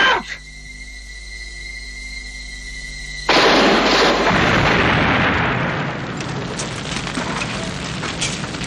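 A loud explosion bursts out suddenly near the warehouse behind a caravan, a broadband blast followed by several seconds of rumbling debris and roaring fire, with no talk.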